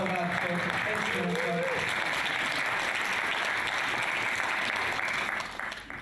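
Audience applause in a shooting range hall after a 10.7 shot in a women's 10m air rifle World Cup final, sustained and dense clapping for about five seconds before tapering off, with a brief voice early on.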